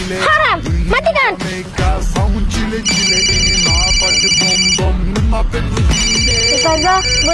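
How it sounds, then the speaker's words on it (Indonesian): A mobile phone ringtone plays in bursts of bright repeating electronic tones over loud, busy voiced sound with shifting melody, the ringing coming and going across the clip. "boleh nggak aku angkat telepon Ustazah?"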